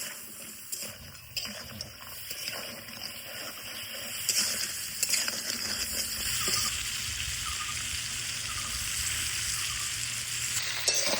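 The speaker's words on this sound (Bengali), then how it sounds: "এবার কাঁকড়া ভালো করে আগে ভাজি নিব।" Crabs frying with salt and turmeric in a pan give a quiet, hissing sizzle that grows denser and steadier over time. Faint stirring knocks sit in the background, with no speech.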